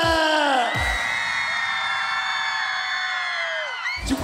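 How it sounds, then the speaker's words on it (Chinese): A crowd screams at an outdoor concert during the 2019 Hualien summer carnival. A held, ringing vocal note rides over a broad roar of fans for several seconds, then a fresh burst of loud yelling comes in. "让我听到你们的尖叫声！"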